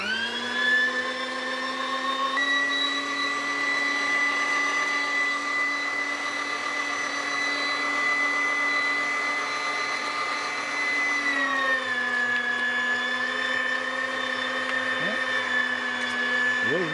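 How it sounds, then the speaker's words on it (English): An electric meat grinder runs steadily, grinding partly frozen, slightly tough sausage meat, a loud continuous motor whine that dips in pitch briefly near the end, close and unbroken. "Turn the meat grinder on."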